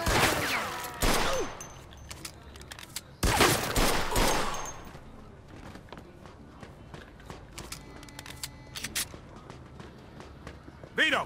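Enemy gunfire in the Mafia II video game: two loud, dense bursts of shots close by early on, then scattered sharper cracks and running footsteps fading into quieter game ambience, with a final burst at the end.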